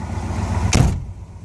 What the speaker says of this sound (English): It opens by pulling it, obviously, and the door opens.